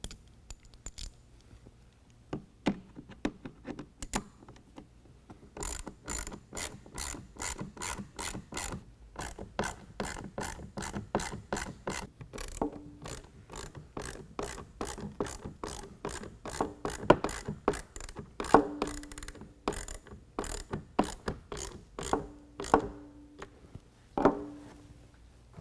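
A hand ratchet clicks in quick bursts while tightening headlight mounting screws on a 2018 Ford F-150, with sharp, close ticking runs separated by short pauses and occasional soft metallic rubbing.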